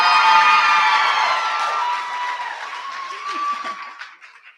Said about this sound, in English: Wait for the cheer.